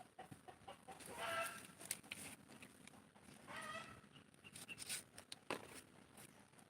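Chickens cluck and squawk in short bursts close by, with a busy farmyard murmur in the background; no one speaks.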